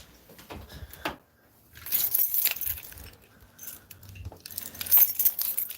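A bunch of keys jangles close by in several quick metallic rattles, with brief pauses and light handling noise.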